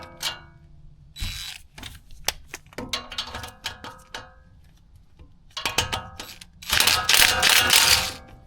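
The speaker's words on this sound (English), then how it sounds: "we'll remove this bracket bolt." A 12 mm socket wrench ratcheting out a bracket bolt on a Toyota Tundra brake line: bursts of rapid metallic clicks, close and sharp, separated by pauses and ending in a louder sustained run.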